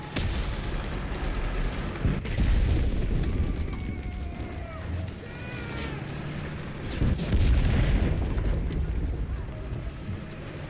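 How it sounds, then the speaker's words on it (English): Bombs burst in Enlisted, a World War II shooter, as heavy booms land around a village position, two big blasts standing out among sharper crackling gunfire and whistling, with some voices mixed in. "Quit bombing my position."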